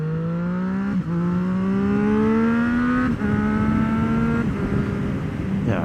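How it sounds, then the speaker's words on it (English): Triumph Street Triple motorcycle accelerating through the gears, its engine note climbing steadily and dropping briefly at each shift, loud and close with wind noise beneath. "it just accelerates so smoothly. This is just a fun bike"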